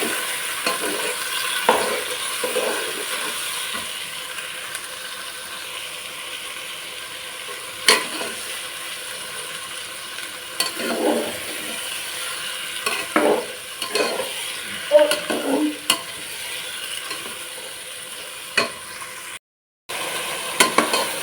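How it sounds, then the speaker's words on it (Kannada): Vegetables fry in oil for a Kannada-style veg biryani. There is a steady low sizzle, with a spoon scraping and clattering against the pan at irregular intervals, close up and with no talking. "ಸೇರಿಸ್ಕೊಂಡು ಇದು ಕೂಡ ನೀಟಾಗಿ ಫ್ರೈ ಆಗಲಿ"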